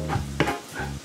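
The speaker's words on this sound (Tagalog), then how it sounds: "Hindi ko masyadong lulutuin ang ating bawang. Hindi ko siya masyadong ibabrown." Garlic sizzles and fries in a hot pan with a dense, steady crackle, close and alone, while a couple of brief stirring knocks break through.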